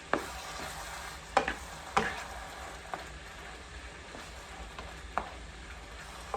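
Taco bake filling with tomatoes cooks in a pan, giving a quiet, steady sizzle broken by a few soft clinks and scrapes of stirring.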